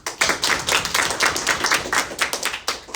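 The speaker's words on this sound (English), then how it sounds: "Round of applause." A classroom crowd claps after a student presentation, continuously with no pauses, loud and close, a dense patter of many hands filling the whole stretch.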